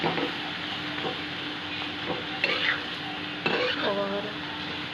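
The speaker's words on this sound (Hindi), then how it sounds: "मैं इसको थोड़ी देर ऐसे ही फ्राई होने दीजिए" Spices frying in a pan with amchur powder and jaggery, giving a steady close sizzle throughout, broken by a few louder scrapes and stirs of a utensil against the pan; no talking.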